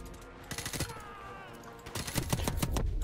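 Gunfire rattles in the video game Call of Duty: Modern Warfare Remastered, two clusters of rapid automatic bursts separated by a short pause, with the second burst heavier and louder than the first.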